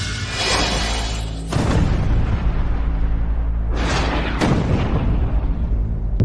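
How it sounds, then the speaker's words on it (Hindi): A plane blowing up: a big booming explosion bursts in and rumbles on, followed by two more sharp blasts, loud and close, with no talking. "विमान विस्फोटित हो गया।"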